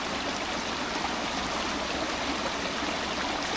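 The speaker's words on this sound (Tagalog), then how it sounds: "Lagyan natin ng tubig." A steady, continuous rush of water being poured onto soil beside a small stream, close and fairly loud with no pauses or talking.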